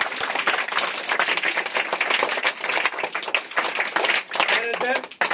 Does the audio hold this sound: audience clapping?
yes